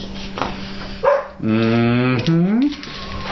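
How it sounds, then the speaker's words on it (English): A dog gives a couple of sharp barks followed by a long, drawn-out howling bark, close and loud, alone with no talk over it. "I swear she hasn't barked all day."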